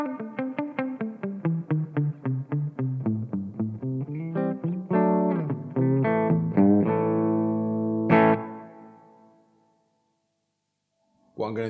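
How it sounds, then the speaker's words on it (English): A distorted electric guitar through a Marshall MG50CFX amplifier's studio reverb, set high, plays a run of quick picked notes, then sustained chords that ring out into a long, spacious reverb tail. "So first up, you've got a studio reverb"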